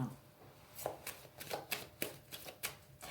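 Oracle cards being shuffled for a nine-card reading: a series of soft, papery riffling bursts in an irregular rhythm, close and fairly quiet, with no talking.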